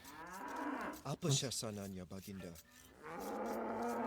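Cattle in the Age of Empires II strategy game give low, drawn-out moos, a few overlapping calls rising and falling, with voices talking around them.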